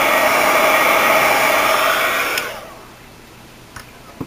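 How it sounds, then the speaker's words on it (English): A heat gun blows loudly and steadily while embossing polymer clay tiles, a close, airy roar that cuts off after about two and a half seconds, leaving a quiet room with a few faint clicks. "have your heat gun warm first, because the clay will burn before the embossing powder melts"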